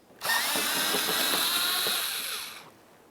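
A power tool spins out a 7mm bolt from the front bumper cover of a Ford Fusion in one loud, close whirring burst lasting a couple of seconds before cutting off, with no talk.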